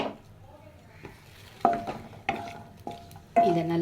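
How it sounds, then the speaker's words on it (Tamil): Almonds frying in a home kitchen pan for carrot kesari, with a soft continuous sizzle broken by four sharp stirring scrapes and clinks of the spoon against the pan, close and alone. "இதை வறுத்து எடுத்துக்கணும்."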